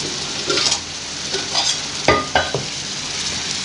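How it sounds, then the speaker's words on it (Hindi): Ginger garlic paste sizzles as it fries with browned onions in a pan, a steady close crackle broken by a few scraping stirs and light clinks of a utensil against the pot. "अब मैं इसमें 1/2 टेबल स्पून डालूंगी अदरक लहसुन का पेस्ट"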